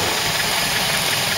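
A Land Rover Series engine fitted with an SU carburettor idles at a steady, even speed, a continuous close mechanical hum with no one talking.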